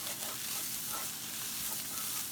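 Ground meat browning in a pan for Tex-Mex enchiladas, a soft continuous sizzle with faint crackles, quiet and steady for a couple of seconds with no talking.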